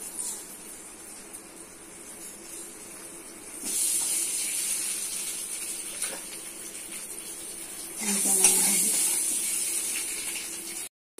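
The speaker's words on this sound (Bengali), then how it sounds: "গরম হয়ে গেছে তেল, দিচ্ছি একটু হলুদ গুঁড়ো, দিচ্ছি লবণ, ডিমগুলো লাল করে দিচ্ছি।" Eggs frying in hot oil with a pinch of turmeric powder and salt, a steady steamy hiss that grows louder partway through and surges again near the end, with no talking.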